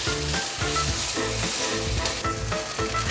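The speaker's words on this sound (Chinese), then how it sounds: "現在放入薑片，把薑片放進來，可以趕快的炒一炒，讓薑片炒香。" Thin ginger slices stir-fry in a hot pan with sesame oil, giving a loud, continuous sizzle with rhythmic scraping pulses from the stirring.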